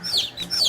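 A newly hatched baby silkie chick gives a few high, thin chirps in quick succession, close and clear with no talk.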